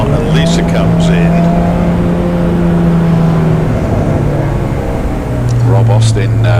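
A Mini race car drives in at Donington Park circuit, its loud engine drone holding steady and then shifting pitch, while a commentator talks over it throughout.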